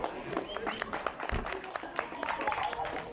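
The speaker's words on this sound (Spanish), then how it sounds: "les pido recibamos con un muy fuerte y cálido aplauso" Audience applause welcoming a guest author to a reading event, a warm, continuous crowd clapping at moderate loudness with scattered sharper claps standing out.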